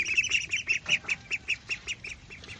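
Baby ducks in a brooder peep in a fast, regular series of short, shrill chirps, close and clear above a quiet background with no voices.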